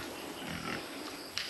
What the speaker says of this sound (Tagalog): So ayan, mas masaya yung mga baboy natin dito.